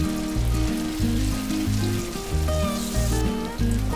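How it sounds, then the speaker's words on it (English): Marinated beef frying in hot oil in a pan for Beef Manchurian, a steady loud sizzle and crackle close up, continuous with no talking. "Then in a hot pan add oil. Then simply fry the marinated beef."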